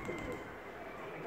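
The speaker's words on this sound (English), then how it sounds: "Masaya ang mga doves." Doves coo softly in a quiet town street, a faint, low call under steady outdoor background noise.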